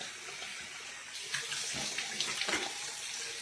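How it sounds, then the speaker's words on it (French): Lukewarm running water splashing from a tap while a face is rinsed clean, a continuous moderate flow with irregular splashes and bursts. "Je vais vous le démontrer en nettoyant avec de l'eau."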